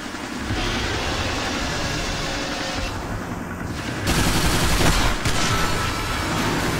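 Sustained gunfire and heavy automatic shooting at a fuel-leaking train in the video game Bulletstorm, a dense continuous barrage that swells louder midway with booming impacts, no voices over it.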